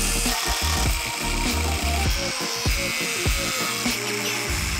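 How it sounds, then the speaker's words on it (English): An angle grinder cutting into a cheap carbon bicycle frame, a loud continuous whining grind with rough, uneven scraping as the disc bites through the material. "this is the first time I've cut into a frame with an angle grinder"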